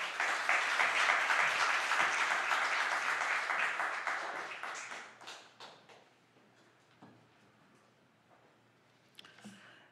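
A church congregation breaks into loud, dense applause to welcome a speaker, sustained for about four seconds before thinning into scattered claps and fading to near quiet.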